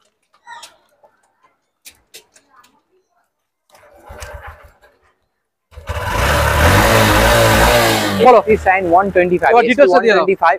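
An SP Shine 125 motorcycle starts with a few faint clicks, then the engine catches and revs loudly for about two seconds before settling under nearby talk.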